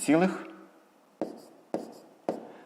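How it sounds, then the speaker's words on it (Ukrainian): A pen writes a maths answer in a school exercise book, heard as three short, close scratching strokes evenly spaced after a brief spoken word at the start. "Записуємо відповідь"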